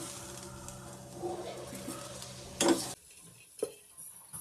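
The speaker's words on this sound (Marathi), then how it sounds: "थोडंसं तेल टाकतोय आपण कांदा भाजण्यासाठी, लालसर करून घेण्यासाठी" Chopped onion fries in a little oil, with a soft sizzle under light stirring, then a few sharp spoon-and-pan scrapes and clinks close by, with no talk.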